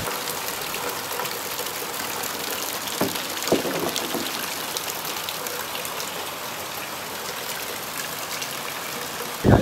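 Heavy rain falling at a village home in Satara during the monsoon, a dense, continuous close hiss with a few soft thumps and no voices.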